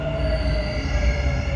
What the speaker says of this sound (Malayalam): മെട്രോ എത്തിച്ചേർന്നു.